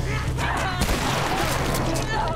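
A shotgun blast from The Last of Us video game, one sharp report near the middle of a busy, dense mix of game combat noise and voices.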